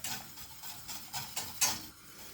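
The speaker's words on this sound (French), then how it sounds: "il est important de vraiment bien mélanger" A whisk scrapes round a saucepan of thickening crème pâtissière, a quiet close-up swish with regular strokes, about six soft beats in two seconds and no voices.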